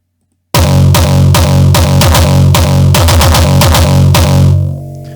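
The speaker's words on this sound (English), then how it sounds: "And so I tried to do kick rolls." Loud, distorted hardstyle kick drums hammer in rapid repeated rolls for several seconds, then cut off into a faint fading tail.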